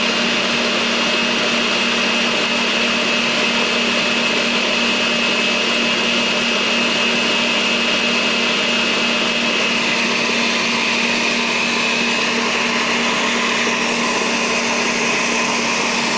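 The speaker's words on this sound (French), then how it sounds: "avec la machine, c'est facile à mélanger tout" Electric kitchen stand mixer whisking eggs and sugar for a princess cake batter, a steady loud motor whine with a constant hum that shifts slightly in pitch near the end, running alone with no talk.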